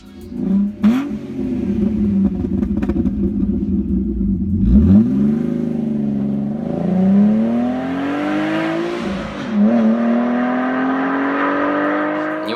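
A quick car engine, one able to reach 100 km/h in under seven seconds, revs up and down in several loud, close bursts, swelling and easing with a throaty rumble and no talking.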